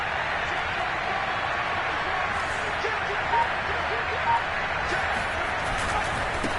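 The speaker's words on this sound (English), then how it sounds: "Listen to this crowd now." Stadium crowd noise in Madden 22 football, a broad steady roar of fans during a two-point conversion, with a commentator talking over it and faint whistles.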